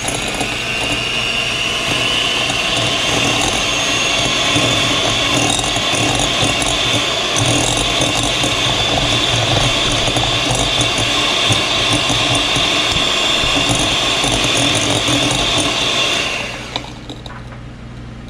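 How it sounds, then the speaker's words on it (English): An electric mixer creams shortening and sugar for a strawberry shortcake batter, running as a loud, continuous whirring motor hum that holds steady for most of the stretch before cutting off near the end. "Come on over to the mixer, and we're going to cream that until it's fluffy."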